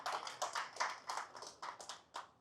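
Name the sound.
audience clapping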